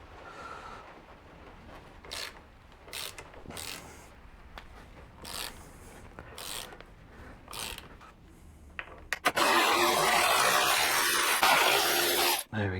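Ratchet clicks and rattles while loosening motorcycle brake caliper bolts, short bursts of mechanical ticking followed by a loud, harsh rasping burst near the end.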